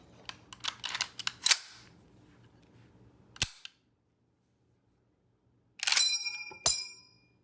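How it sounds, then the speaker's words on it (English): An M1 Garand rifle has its empty clip loaded and ejected. A burst of sharp metallic clicks and clacks of the action comes first, then a loud single clank, a pause, and a bright ringing ping as the clip flies out. "what's a Garand video without the famous ping?"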